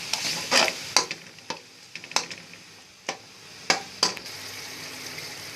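Biryani masala sizzles and fries in a pot with added water, stirred by a spoon that scrapes and clinks against the metal in a dozen sharp, irregular strokes over a steady, close sizzle.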